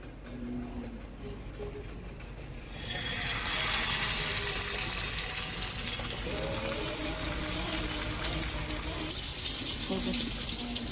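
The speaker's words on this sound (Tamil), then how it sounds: "தேவையான காய்கறி வேக தேவையான தண்ணி சேர்த்துக்கலாம்" Water poured into a pot of sambar with vegetables on the stove, a steady broadband rush starting after a couple of seconds of quieter kitchen noise and running to the end, with faint background voices.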